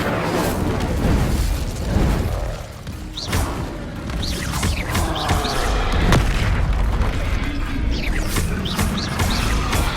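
Booming fire-spell explosions from the Hogwarts Legacy video game: Incendio blasts roar in a loud, dense barrage of thuds and crashes over a continuous rumble, with no talk.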